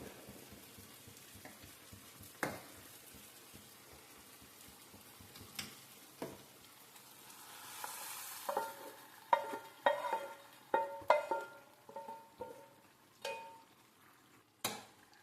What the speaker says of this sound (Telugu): ఈ విధంగా కలుపుకుంటూ ఉండాలి గట్టిగా ఇలా వత్తుతూ ఉంటే గోంగూర మెత్తగా అయిపోతుంది